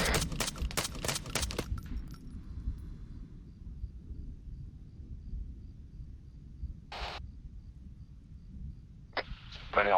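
Rapid bursts of automatic gunfire in a video game, loud and close for the first two seconds, then a quiet hum with a few isolated sharp bursts later on.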